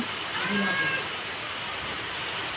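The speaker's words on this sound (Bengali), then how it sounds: "দেখো বন্ধুরা, ঢুকতে না ঢুকতেই বৃষ্টি আরম্ভ হয়ে গেছে" Rain falls steadily as an even, close hiss with no pauses.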